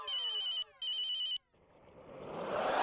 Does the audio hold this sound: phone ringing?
yes